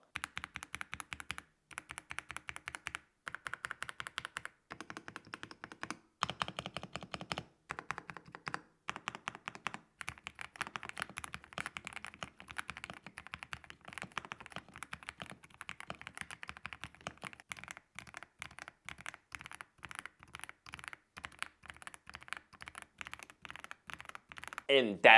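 Typing on a Dareu EK75 Pro mechanical keyboard, close and clear: bursts of rapid keystrokes separated by short pauses, then a long continuous run of clacky key presses with occasional heavier thocks.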